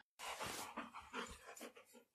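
A dog pants in rapid, breathy bursts with a faint whimpering edge, close and fairly loud, the rhythmic huffs continuing steadily without any talk.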